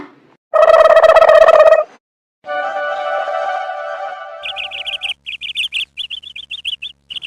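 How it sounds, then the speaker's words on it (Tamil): Colourful small birds chirping in the morning: a loud burst of harmonic calling followed by a steadier call, then a rapid run of short, high repeated chirps, with no voices. "காலையிலேயே கலர் குருவிலாம் வந்து நிற்குது"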